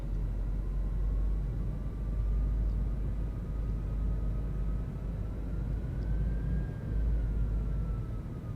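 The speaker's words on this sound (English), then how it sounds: "While we're taxiing, we can make sure the cabin's ready" Fenix A320 airliner taxiing in Microsoft Flight Simulator, a steady low jet engine rumble with a faint rising and falling whine over it, fairly quiet and continuous with no talk.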